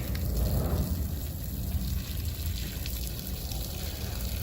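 A hot water tap runs inside a Winnebago Solis 59PX RV during winterizing, a steady hissing, splashing flow that stays moderately loud throughout with no talking.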